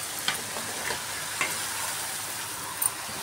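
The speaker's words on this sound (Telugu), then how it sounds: "ఇప్పుడు మనం సొరకాయలు వేసుకోవాలి." Bottle gourd pieces fry in hot oil in a pan, giving a steady bright sizzle with a few small crackles and spoon taps, close and moderately loud, with no talking.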